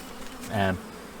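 A brief, close buzz of a honeybee swells up and fades within a second against a soft background hum at a hive.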